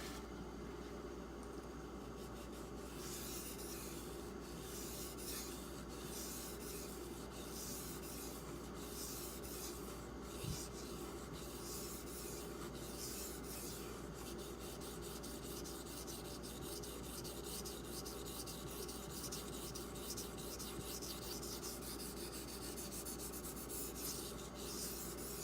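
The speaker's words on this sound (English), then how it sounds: "In my opinion, sharpening it, it feels like any other 440C knife I've ever sharpened." Steady, faint rubbing strokes of a Benchmade Griptilian 440C steel knife against a sharpening stone, repeating in an even rhythm over a constant low hum.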